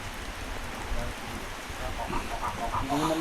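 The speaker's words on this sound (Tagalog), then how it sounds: "Minsan-minsan pumapatak ang ulan." Light, intermittent rain patters as a soft, steady hiss, while chickens cluck nearby and faint voices sound in the background.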